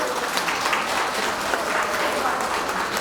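Sustained applause from a large crowd after a performance at an 80th Liberation Day ceremony in Ulsan, South Korea, dense steady clapping that fills the whole stretch without pause.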